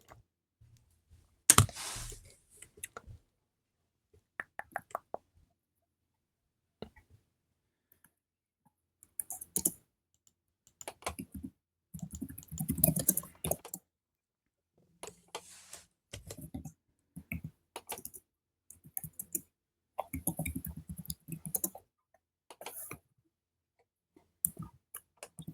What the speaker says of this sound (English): I can hear typing, but I'm not sure who it is